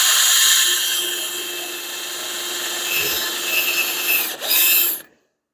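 A power tool fitted with a Christmas tree bit cuts steady and loud for about five seconds during a 6.4 Hemi test stand build, its whine holding with slight surges before stopping abruptly.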